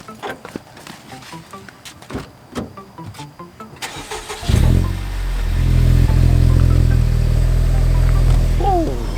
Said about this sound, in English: This car has sat here for a week, and it still starts up nice and healthy.